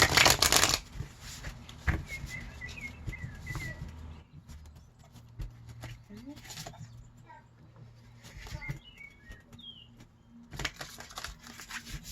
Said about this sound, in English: I'm going to shuffle one more time because these cards are all over the place